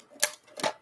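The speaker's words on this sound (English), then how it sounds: "you put the dice in there. So it's kind of noisy" Dice tumbling through a Doctor Who-themed dice tower give two quick rattling clatters about a third of a second apart, close and moderately loud, with no talking.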